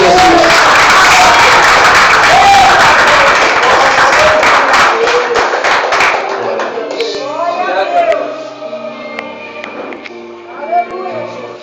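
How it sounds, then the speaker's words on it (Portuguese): Church congregation applauding loudly and steadily for about six seconds, the clapping then thinning out as a voice speaks over softer scattered claps and background sound. "Aplauda Jesus."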